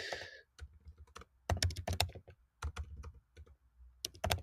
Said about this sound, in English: then we'll type in our job description